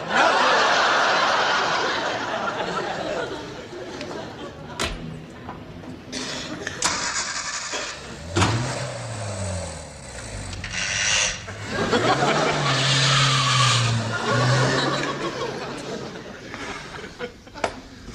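A car engine cranks and catches, then revs and moves off as the car drives away, the engine pitch rising and falling across several gear changes, with laughter and some talk mixed in.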